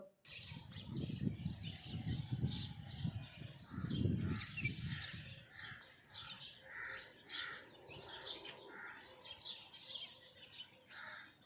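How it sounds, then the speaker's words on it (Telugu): Several crows caw repeatedly in the open on an evening walk, with other birds chirping in the background; the calls are loud at first and then fade into steady birdsong. "మీరు గమనించినట్లయితే అక్కడ ఒక కాకి బాగా అరుస్తుంది కదా"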